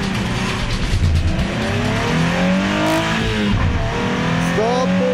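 Nissan 350Z race cars with VQ35DE engines launch from the start of a track battle, engines rising in pitch through loud, close acceleration with overlapping revving and a brief tire squeal, under a voice.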